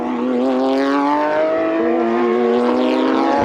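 Porsche Supercup race cars at Bahrain, a loud sustained high-revving engine wail with rising pitch, close and continuous, with no talk over it.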